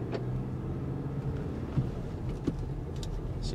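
A 2012 Volkswagen Passat TDI SE diesel car drives and turns around, its steady low engine and road rumble running continuously from inside the cabin with a couple of soft knocks.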